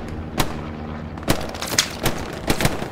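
Artillery shells strike in the Hell Let Loose war game, sharp booming impacts landing irregularly, about six heavy hits over a few seconds with rumbling battlefield noise between them.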